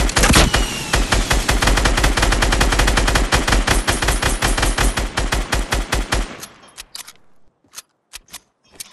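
Rapid automatic gunfire from a video game blasts nonstop and loud for about six seconds, then thins into scattered single shots that trail off toward the end.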